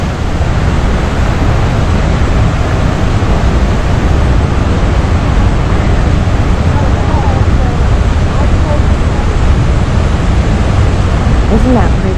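Niagara Falls waterfall roaring at close range, a loud, steady, unbroken rush of falling water filling the whole stretch.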